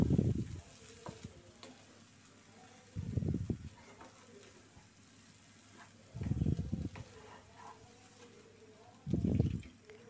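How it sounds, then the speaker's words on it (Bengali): A spoon stirs sajna dal, lentils cooked with drumsticks, in a pan on the stove. Four separate scraping, sizzling bursts of stirring come about every three seconds, with quiet simmering in between. "এবার একটু নেড়ে দিব"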